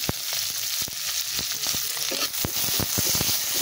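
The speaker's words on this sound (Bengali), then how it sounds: "পেঁয়াজটা ভালো করে ভেজে নেবো" Onions fry in a pan over already fried puti fish, giving a busy, close sizzle scattered with sharp crackles and pops that continues for several seconds without any voices.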